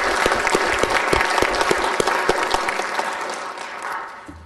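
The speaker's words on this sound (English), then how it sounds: "a round of applause and thanks to all the staff and community partners" Applause from the audience at a city council meeting, a dense, steady round of clapping that fills the room and slowly fades toward the end, with no voices over it.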